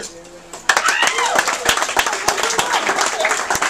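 Comedy show audience breaks into loud applause after a brief quiet moment, a dense burst of many hands clapping and some crowd noise, with a voice talking over it.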